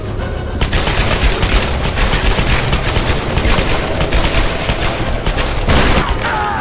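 Dual-wielded guns fire in an action-adventure game finale, loud rapid volleys of shots in dense bursts with booming impacts, brief gaps between the salvos.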